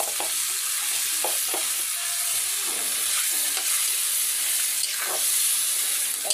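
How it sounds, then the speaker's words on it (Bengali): Vegetables sizzle and fry in a pan while being sautéed for chana dal, a constant close hiss of hot oil broken by occasional stirring scrapes, with no talking. "তার জন্য সবজিটা আগে কষাই নিচ্ছি, ভেজে নিচ্ছি আগে, তারপরে এখন কষাচ্ছি"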